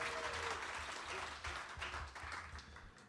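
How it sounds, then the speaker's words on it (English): An audience applauds a man named David at a live concert at The Ark, the clapping steady and fairly close throughout, with no voices over it. "please round of applause for David sharing his father's legacy"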